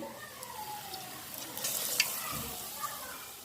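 Vada pav potato balls frying in hot oil, a steady soft sizzle and bubbling up close with a few light pops, no talking.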